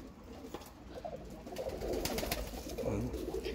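Pigeons cooing in a loft in Wolverhampton, several birds giving low, overlapping coos that swell in the second half, fairly near, with no talk over them.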